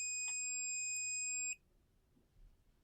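A piezo buzzer, set off by a PIR motion sensor on a microcontroller board, sounds a steady high-pitched electronic tone for about a second and a half, then cuts off abruptly into quiet room hiss.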